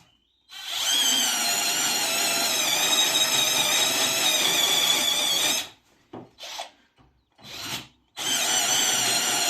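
A Parkside power drill with a 9 mm bit whines steadily for several seconds while boring, then stops and restarts in short bursts before running continuously again.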